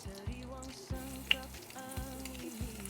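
Garlic sautéing in a pan makes a steady, close frying sizzle, with a few soft pops and stirring scrapes over a low pulsing hum from the stove.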